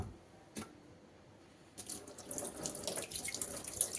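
Tap water runs into a sink while two bananas are washed, starting quietly with a brief splash, then swelling into a steady, close rush of water with scattered splashes.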